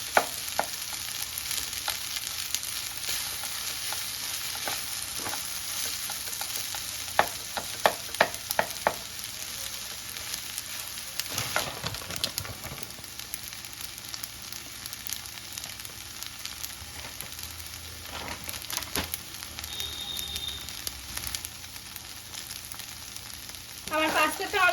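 Pasta tossed with chili flakes and oregano in a pan gives a soft, continuous sizzle with intermittent scraping stirs, fairly quiet and steady throughout with a few brief louder scrapes.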